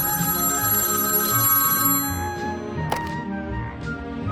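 A telephone rings with a bright electronic ringtone, steady repeating tones running through the first two seconds over a low background, then fading to softer tonal traces and a couple of short clicks.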